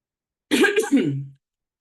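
A single short, throaty cough, close and fairly loud, breaking off after under a second into silence.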